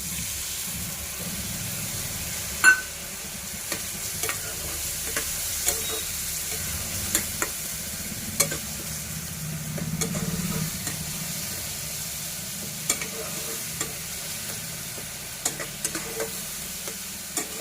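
Turmeric spice paste sautéing in a pan for homemade tarka, a steady sizzle and hiss with scattered scrapes and clicks of a stirring spoon, close and continuous.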